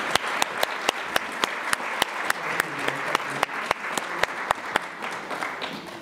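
Lecture audience at a sustainability talk applauds, a modest, even spread of clapping from a room of listeners, a few sharper individual claps standing out at regular intervals throughout.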